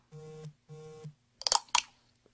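A phone chimes with a text message notification: two sustained electronic tones followed by two short bright blips, close and clear in a quiet room.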